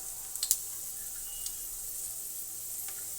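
Mustard seeds and peanuts sizzle softly in hot oil while a pulihora tempering is being fried, giving a steady faint hiss with a few small crackling pops near the start.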